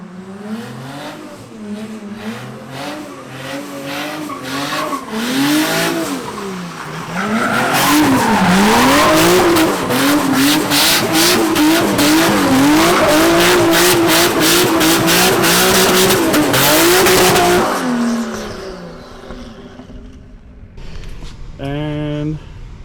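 A BMW E36 spins donuts, engine revving hard and rising and falling in waves as the tires squeal loudly and continuously, then the noise fades out, with someone talking over it.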